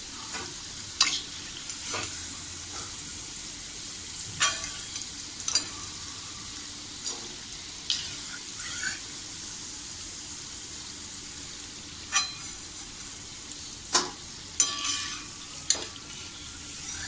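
Cabbage manchurian fritters deep frying in oil, a continuous close bubbling sizzle broken by repeated sharp clinks and scrapes of a utensil against the pan.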